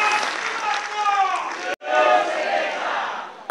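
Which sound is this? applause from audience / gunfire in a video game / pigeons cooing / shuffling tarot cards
applause from audience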